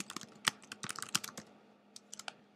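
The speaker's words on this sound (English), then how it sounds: "just type whatever you need to" Computer keyboard keys being typed on while building a basic web page in a text editor: quick, irregular bursts of close, crisp clicks with short pauses, alone and fairly quiet.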